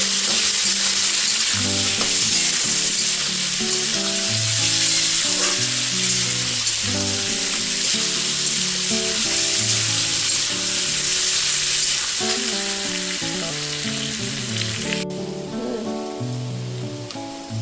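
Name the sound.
mushrooms frying in a pan with salt and turmeric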